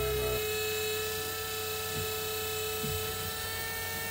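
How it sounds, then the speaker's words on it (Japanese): A household electric fan runs alongside a Mini 4WD motor spinning during a home break-in session, giving a steady, continuous mechanical hum and whir with strong tonal lines, close and unbroken throughout. "これ今、扇風機の音と、モーターの音とうるさいじゃないですか。"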